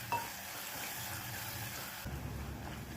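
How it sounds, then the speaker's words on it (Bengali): Chopped onion frying in oil over a medium gas flame, a constant close sizzle with faint stirring scrapes, growing a little louder and fuller near the end. "গ্যাসটাকে মিডিয়াম ফ্লেমে রেখে পেঁয়াজটা হালকা লাল করে ভেজে নেব।"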